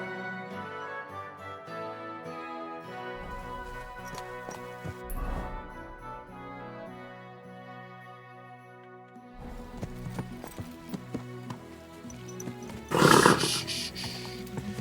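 A horse whinnies and snorts over layered game music in Kingdom Come: Deliverance II, with a louder burst of noise near the end; hooves and animal calls sit within the soundtrack.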